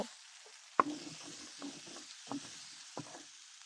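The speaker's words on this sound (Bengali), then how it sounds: "এটাকে আমি ভালো করে কষিয়ে নেব" Vegetable masala with green chillies sizzles softly in a pan as it is sautéed, a steady low fry broken by a few sharp knocks and scrapes of the spoon against the pan.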